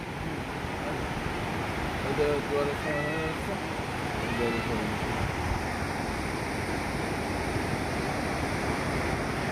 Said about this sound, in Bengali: এখানটায় কিন্তু ভালো সুন্দর ঢেউ, দেখেছো? খুব সুন্দর ঢেউ এখানটায়।